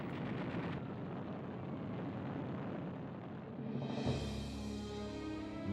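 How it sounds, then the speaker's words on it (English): Bombs bursting during a wartime air raid on Clark Field with US aircraft lined up on the ground, a dense, continuous roar of blasts and rumbling, joined near the end by a rising droning tone. "a preemptive bombing raid caught large numbers of US aircraft neatly lined up at Clark Field"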